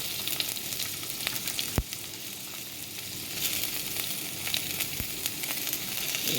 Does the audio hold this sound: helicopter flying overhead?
no